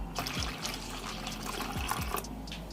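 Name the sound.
water being poured into Surti locho batter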